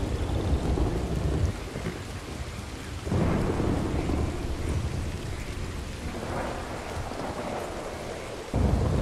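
Thunderstorm in the Red Dead Redemption 2 video game, with heavy steady rain and several deep thunder rumbles and cracks rolling in over it, no talking.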